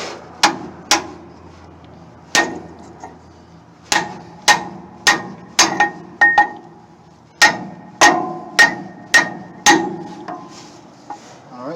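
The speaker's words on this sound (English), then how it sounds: "lay this brass hammer, flat up against there. And then we'll hit it with the regular hammer." Loud metallic hammer strikes on a brass hammer held against a semi-trailer brake part land one at a time in an irregular rhythm, each a sharp ringing clank on metal, about fifteen blows in all.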